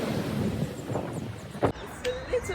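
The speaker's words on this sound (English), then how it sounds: "It's a little bit windy and the allotment is on a busy road." Wind buffets the microphone at a garden allotment beside a busy road, giving a steady low roar with gusty swells and a few faint knocks in the background.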